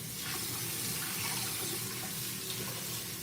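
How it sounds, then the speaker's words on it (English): Kitchen tap water pours into a cooking pot, a steady, fairly loud rushing stream that holds even throughout. "So I'm getting some water in the pot here."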